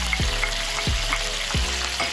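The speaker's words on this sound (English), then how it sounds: "Let my tomato kind of help pick up some of that flavor from the bottom of the pan while my garlic slowly sautés" Tomato, garlic and thyme sautéing in a hot pan: a loud, steady close sizzle with three thumping low knocks from a spoon or pan at regular intervals.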